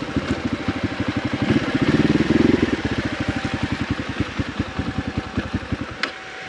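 A motorcycle engine runs close by on a trip to Chitlang. It gives a steady, rapid thumping idle, swells briefly around two seconds, then cuts out near the end.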